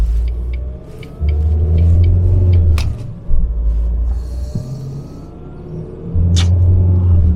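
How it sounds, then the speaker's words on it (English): A Jaguar X-Type Estate drives on a larger road while being taken up through the gears, with a loud low interior engine and road rumble that rises and drops between shifts, and a few light clicks inside the cabin. "we're going to go out on a little bit of a bigger road and we can go through the gears and see how this thing feels"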